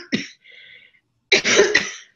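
A person coughs near the microphone: a brief cough, a short pause with a faint hum, then a longer burst of harsh, rough coughing.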